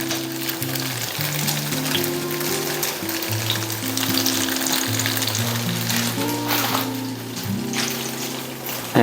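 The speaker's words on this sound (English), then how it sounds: "the first thing we're gonna do is saute our garlic" Garlic sautéing in freshly poured cooking oil for adobong kangkong, a steady close sizzle with light stirring clatter throughout, with faint melodic tones running underneath.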